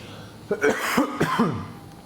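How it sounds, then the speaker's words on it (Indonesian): A few short, harsh coughs from a person with COVID-19, close by, clustered in quick bursts over about a second, with no talking around them. "ini bakal batuk terus, bakal batuk gitu di tengah-tengah ngobrol"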